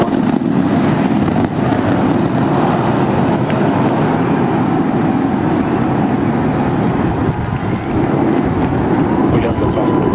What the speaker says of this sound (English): We got liftoff.